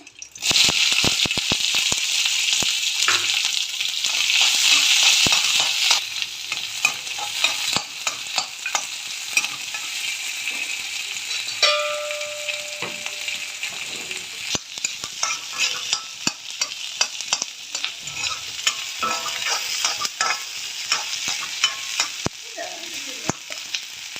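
Mustard seeds and onion fry in hot oil for a cowpea curry, opening with a loud, dense sizzle and crackle that eases into steadier frying with scattered pops and stirring clicks; no voices.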